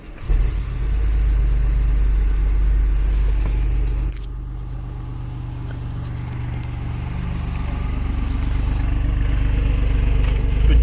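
A BMW i8 Roadster hybrid switches from electric to petrol power, its engine starting up and settling into a steady low rumble, heard from inside the vehicle, with a brief dip before the running hum continues.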